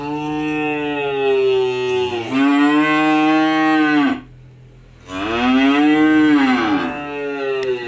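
Cattle at a livestock farm pen, including a Pegon-type animal around one year old, give two long, loud, close moos separated by a brief pause, with no talk over them.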